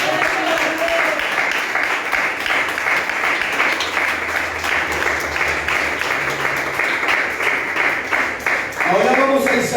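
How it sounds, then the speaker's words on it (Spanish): A church congregation applauds during a Spanish-language sermon at IPNJ Central in Ibagué, a steady loud wash of clapping lasting throughout, with voices and a murmur mixed in and a brief sung or spoken tone near the end. "Denle un aplauso al Señor."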